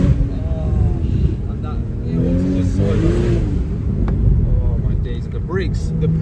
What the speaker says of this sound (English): It just sinks all the way to that red line.